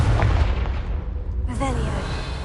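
Bombarda and Confringo spell blasts in the Hogwarts Legacy video game boom heavily in a spider-filled cellar, a deep rumbling explosion followed by a second burst, with a voice speaking briefly.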